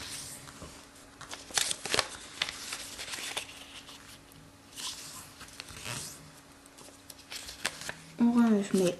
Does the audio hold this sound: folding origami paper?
yes